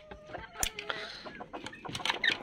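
Chickens, including Japanese breed hens, cluck and squawk in short irregular bursts on a backyard poultry farm, fairly quiet with occasional sharper calls and faint background talk.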